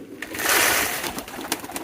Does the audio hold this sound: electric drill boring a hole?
no